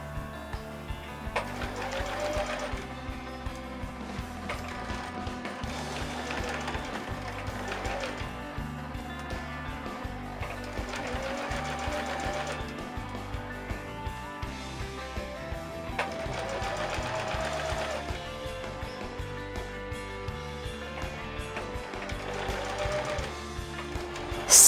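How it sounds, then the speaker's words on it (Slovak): Sewing machine running a straight stitch to hem denim jeans, its needle clattering rapidly in long bursts with brief stops between seams, close and steady throughout. "Na šitie použijeme obyčajný rovný steh, šijeme z lícnej strany nohavíc."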